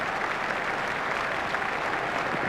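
A cricket stadium crowd applauds a batsman reaching his half century, a steady, broad roar of clapping sustained evenly throughout, with no clear voices.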